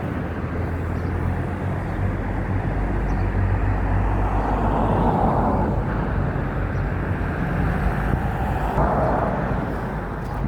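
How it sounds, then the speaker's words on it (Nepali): An airplane flies overhead, producing a continuous low roar that swells and fades slightly over about ten seconds, heard alone outdoors without talk. "अरे प्लेन उडिरहेको रहेछ क्या माथिबाट"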